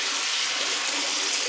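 Tap water runs steadily into a sink while dishes are washed, a continuous broadband rush that stays close and even throughout, with no voices.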